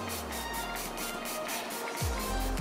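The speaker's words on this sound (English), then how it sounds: "the best affordable setting spray that you can get from the drugstore, I recommend this one, Rimmel Insta Fix and Go 2-in-1 Primer and Setting Spray" A Rimmel Insta Fix and Go 2-in-1 primer and setting spray mists in a steady, close hiss, followed near the end by a low thump.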